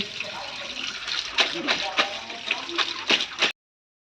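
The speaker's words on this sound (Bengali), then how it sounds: "কুণাল এখানে মাছ ধুচ্ছে," Tap water running and splashing while fish is washed, rising in brief uneven gushes close by before cutting off abruptly, with a voice faintly underneath.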